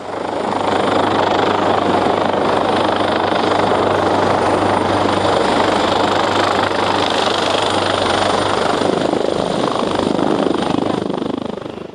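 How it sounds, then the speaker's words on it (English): A helicopter landing nearby, roaring with a constant heavy rotor thrum and engine whine, loud and steady throughout. "they're going to land a chopper here"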